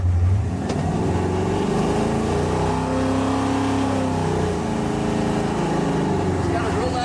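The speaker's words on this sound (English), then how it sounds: "Those Flowmasters give it a real deep throaty sound." A 1969 Chevrolet Camaro with a 427 V8 and Flowmaster exhaust, built Yenko style, gives a deep, steady rumble from close by, with the engine note rising and falling slightly while driving.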